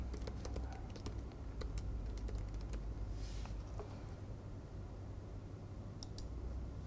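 Quick, light keystrokes on a computer keyboard as a group name is entered during a software setup, scattered clicks over a steady background hiss.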